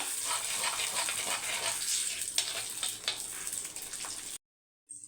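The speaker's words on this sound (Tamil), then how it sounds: "கருவேப்பிலை பச்சை மிளகா பொறிஞ்சு வருது சின்ன வெங்காயம் பூண்டு வதங்கட்டும்" Curry leaves, green chilies, shallots and garlic fry in hot oil, a loud continuous sizzle with a few stirring clicks, then a sudden brief silence near the end.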